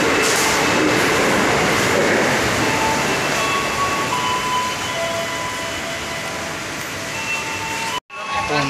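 Inside a moving light rail (LRT) car, a loud steady rumble of wheels and motors with faint whining tones, cutting off abruptly near the end.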